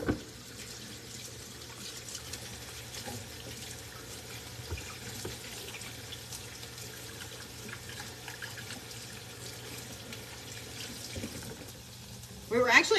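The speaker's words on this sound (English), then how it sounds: "I'm gonna wash my hands real quick" Tap water runs steadily into a kitchen sink while hands are washed, producing a soft continuous hiss and splash at moderate distance, with a brief louder clatter at the end.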